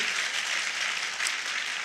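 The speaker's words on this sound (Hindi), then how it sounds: "तालियां जंदार बजनी चाहिए" Audience clapping at a motivational talk, a brief, fairly faint, even wash of many hands with no voices over it.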